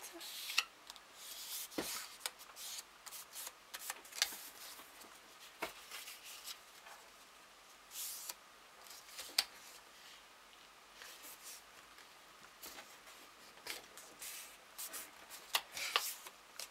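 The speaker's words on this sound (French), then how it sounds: "c'est là que la feuille va être pliée" A sheet of paper is folded and creased for a handmade card, with soft rustles and sharp papery crackles and taps scattered irregularly across a quiet room.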